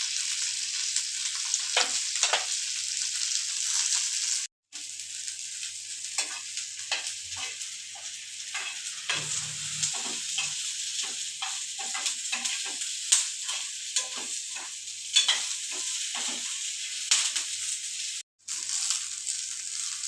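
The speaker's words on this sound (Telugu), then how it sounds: "ఎండుమిర్చి, ఉల్లి, వెల్లుల్లి వీటిని దోరగా వేయించుకుందాం." Dried red chillies, onion and garlic frying in a pan on low heat, a continuous soft sizzle broken by frequent scraping and stirring strokes, with two brief cuts to silence.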